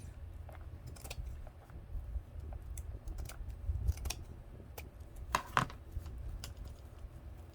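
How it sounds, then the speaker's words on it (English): Scissors snip and trim a piece of a Dollar Tree Santa gnome Christmas craft, giving a few quiet, sparse, crisp cuts over low background rumble with faint handling noise. "this piece right here I can cut,"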